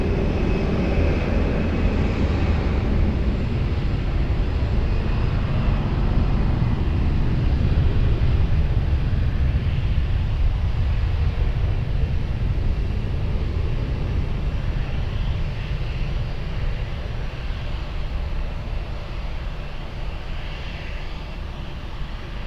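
An airliner on its takeoff roll from runway 20 at Lisbon Airport gives a steady, broad jet roar that holds for the whole stretch and eases off slightly toward the end, with no voices.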